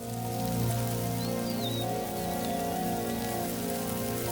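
Early rain on the soil of the Liuwa Plains in Africa: a dense, steady hiss of drops that holds at an even level throughout, with low sustained tones underneath and a few faint high chirps.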